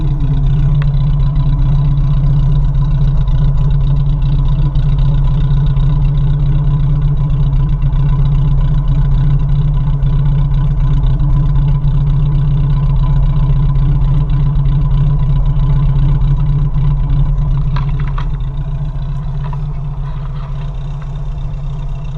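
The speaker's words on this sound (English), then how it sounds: "I don't like the sound of the exhaust, which makes me think catalytic converter" A 1987 Suzuki Samurai idles with a steady, loud, low exhaust drone that runs rough and misses throughout, heard close with no talking, easing slightly near the end.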